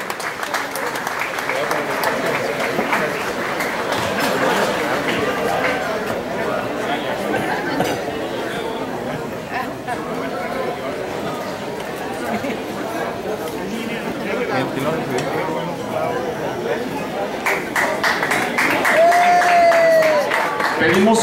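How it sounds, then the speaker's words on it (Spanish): Sustained applause from the audience at the Golden Deer 2011 awards ceremony in Mazatlán, Sinaloa, honoring award winners, steady clapping mixed with crowd chatter and a voice over it, swelling louder toward the end. "Give us a big hand for all awarded companies and personalities tonight."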